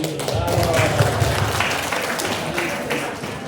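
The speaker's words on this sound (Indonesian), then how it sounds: "tepuk tangan dulu" An audience at a religious moderation dialogue forum in Pontianak claps in a moderate round of applause, steady and fairly close, fading slightly toward the end.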